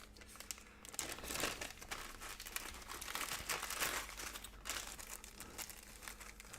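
A plastic bag holding board game tokens crinkles and rustles continuously up close, in loud irregular bursts with no talking.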